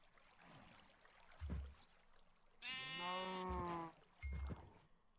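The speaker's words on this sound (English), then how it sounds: "now I got two cows and a sheep" Sheep bleating in the Minecraft video game, a drawn-out wavering bleat in the middle with short thumps before and after, moderately loud with no talking.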